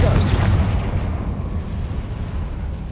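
A Confringo blasting spell explodes in the Hogwarts Legacy video game, a loud low boom with a rumbling tail that fades over a few seconds.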